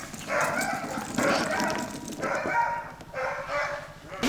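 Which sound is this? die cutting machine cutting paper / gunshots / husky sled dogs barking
husky sled dogs barking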